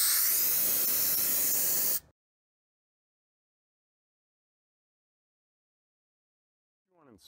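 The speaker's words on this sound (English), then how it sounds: "I'll do so by turning the valve on slightly, cupping my hand in front of the valve, and then just smelling for any impurities." Compressed air bursts from a scuba tank valve, a loud sharp hiss lasting about two seconds before cutting off abruptly into silence.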